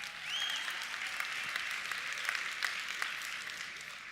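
Steady applause from a convention audience, a broad even wash of many hands clapping for several seconds with no one speaking over it.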